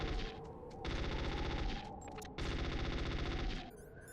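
MP5 automatic fire in Metal Gear Solid, with several rapid bursts of steady rattling shots separated by short pauses. Game sounds come in between the bursts and no voices are heard.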